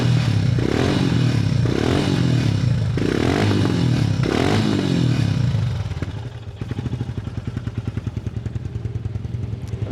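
Royal Enfield Himalayan 411 single-cylinder motorcycle with the exhaust baffle removed, with clattering and scraping at first, then settling into a steady, close, even idle thump.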